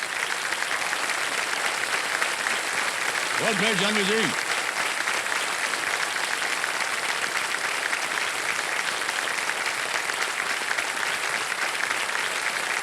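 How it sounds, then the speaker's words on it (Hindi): Studio audience applause on a televised quiz show, a steady broad wash of clapping running throughout, with a host's voice speaking briefly over it. "ताली बज जाए इनके लिए।"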